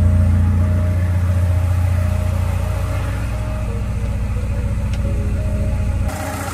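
A faltering Honda Civic engine idles with a low, steady rumble, running roughly as if about to stall, then drops noticeably in level near the end.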